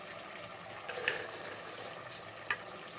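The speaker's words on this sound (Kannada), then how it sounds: "ರೈಸ್ ಹಾಕ್ಕೊತಾ ಇದ್ದೀವಿ." Rice being tipped into chicken frying in oil and masala for hara biryani: a steady, soft sizzle with a couple of light grainy clatters as the grains land, fairly close.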